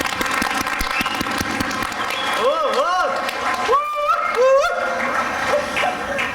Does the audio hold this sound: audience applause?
yes